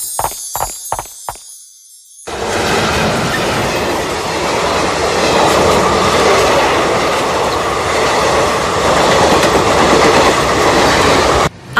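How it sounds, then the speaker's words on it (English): A passenger train in India runs on the rails with a loud, continuous rumbling roar and faint rhythmic wheel clatter, following a few short electronic tones at the start. "Let's hurry, else we'll miss the train."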